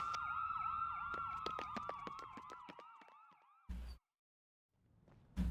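Several ambulance sirens wail together in the video game Trauma Team, overlapping rising and falling tones sounding loud and close, then cutting off abruptly, followed by two short bursts of noise and silence.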